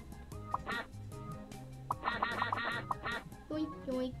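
Cartoon ducks quack in short repeated bursts over a bright, bouncy backing tune in the children's reading game Teach Your Monster How to Read, fairly close and loud with no talking.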